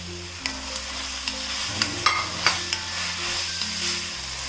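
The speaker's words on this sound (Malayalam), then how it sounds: "ഈ സവാളയും കൂടി ഇട്ട് വഴറ്റി കൊടുക്കണം." Sliced onions, three of them, sautéing in a pan with ginger, garlic and green chilli for a masala chicken curry, a steady soft sizzle broken by intermittent stirring scrapes and clinks, close and alone with no talking.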